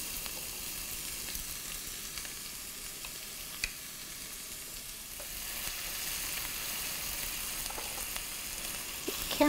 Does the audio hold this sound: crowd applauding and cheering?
no